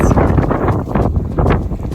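Sailboat under both sails with the engines off, cruising at about six knots on the way to Sarandë, Albania: a steady broadband rush of wind and water fills the whole stretch without a break, close and fairly loud.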